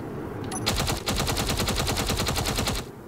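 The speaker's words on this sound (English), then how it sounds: "That's me shooting a machine gun there now." A machine gun fires in the video game Space Engineers on a planet surface, loud rapid evenly spaced shots in a steady burst of about two seconds, with no talking over it.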